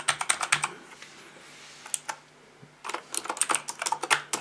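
Rapid clicking keystrokes on a VicTsing anti-ghosting mechanical gaming keyboard, close and crisp, in quick bursts with a short lull midway before a denser flurry of typing.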